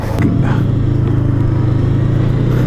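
A Bristol Veloce 500 motorcycle on a test ride, its engine giving a loud, close, steady drone with a faint rise in pitch as it pulls along.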